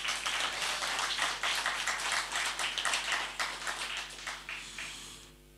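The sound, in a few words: audience applause as speaker walks up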